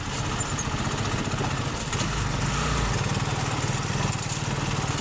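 A motorcycle engine runs steadily and vibrates, giving a continuous low, rumbling drone close to the microphone with no talking over it.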